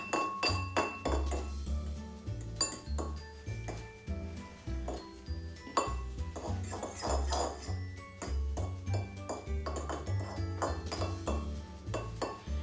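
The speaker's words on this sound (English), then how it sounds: "we're going to give this a little whisk around with a fork just to break it up" A fork whisks egg in a bowl while Welsh cakes are being made, rapid rhythmic clinks and taps against the bowl repeating steadily, close and clear.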